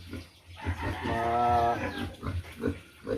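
Pig on a small backyard farm giving a loud drawn-out squeal lasting about a second, close by, set among softer grunts and low background noise.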